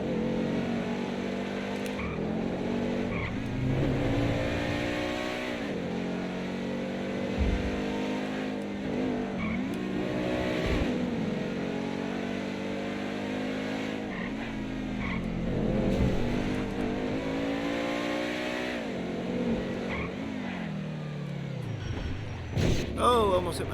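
A BMW in a GTA roleplay game revving and accelerating repeatedly, its engine pitch rising and falling through several gear changes at moderate loudness, with a voice talking intermittently over it.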